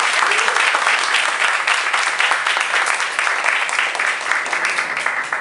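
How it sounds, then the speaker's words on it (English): Audience applause at a club awards gathering, loud dense clapping that fills the whole stretch at an even level before tapering slightly at the end. "Let's give him a round of applause."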